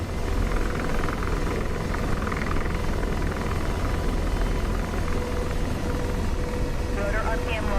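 AH-64D Apache helicopter rotor in the DCS World flight simulator: a dense, steady, loud thrum and whine that holds unbroken throughout.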